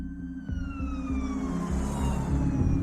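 An ambulance siren wails loud and close without a break, its tone sweeping downward, over a steady rhythmic low rumble.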